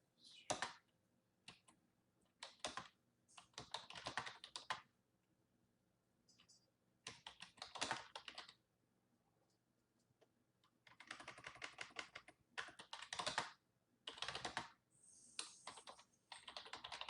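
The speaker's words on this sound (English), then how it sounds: "I just realized I was typing that entire time" Bursts of typing on a computer keyboard, quick clattering key presses in several separate runs with short pauses between them, fairly close and clear against a quiet room.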